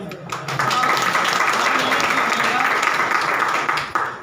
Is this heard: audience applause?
yes